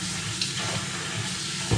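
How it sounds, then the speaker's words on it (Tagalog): Water pours into a baby bottle in a steady, soft trickle, close and fairly quiet, with a small clink near the end. "Lagyan ko to ng tubig."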